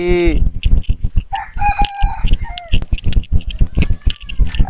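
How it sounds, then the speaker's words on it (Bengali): A bird, likely a chicken or rooster, cries loudly in short, repeated calls and clucks near the microphone, with bursts of noisy background activity. "ও কান্না করতেছে প্রচুর পাখি"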